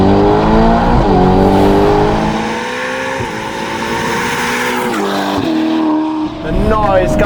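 Novitec-tuned Ferrari Portofino M with 688 hp and an aftermarket exhaust, driven hard: a loud, close, rasping engine roar rising and falling through shifts, with crackles and tire squeal, and someone talking over it.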